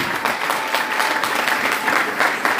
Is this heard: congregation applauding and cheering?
yes